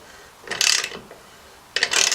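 Ratcheting wrench tightening a bolt on a Ford Fiesta engine during head gasket work, two short bursts of rapid ratchet clicks close up, separated by a pause.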